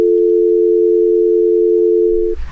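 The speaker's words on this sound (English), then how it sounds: "So that's our dial tone file." A steady, loud touch-tone telephone dial tone hums continuously for over two seconds, then cuts off into a brief rustle of handling noise.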